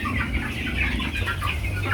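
Broiler chickens clucking steadily on a farm in Uganda, a dense flock chorus of overlapping clucks and calls with constant low background noise.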